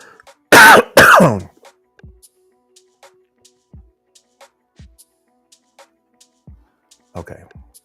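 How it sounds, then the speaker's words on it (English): A person gives two loud, close coughs followed by throat clearing, then faint scattered clicks and a brief bit of talk at the end. "I think I coughed anyway"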